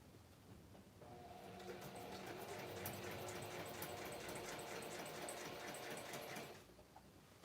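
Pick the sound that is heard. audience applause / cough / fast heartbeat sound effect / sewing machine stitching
sewing machine stitching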